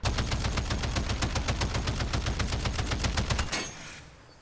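Rapid, sustained automatic gunfire in Call of Duty: Modern Warfare III zombies mode, a fast steady rhythm for about three and a half seconds, then it stops and fades out.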